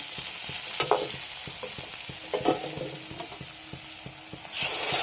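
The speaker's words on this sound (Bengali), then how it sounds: "আর এখানে পেঁয়াজটা ভেজে নিচ্ছি সর্ষের তেলে।" Onions fry in mustard oil with a steady crackling sizzle, while a spatula stirs them in repeated scraping strokes close by. A louder hiss swells at the end.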